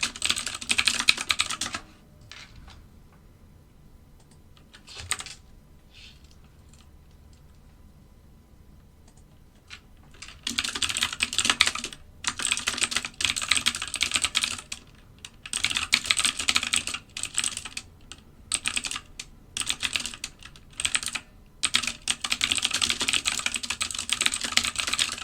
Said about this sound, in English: Oops, I'm typing on my chart.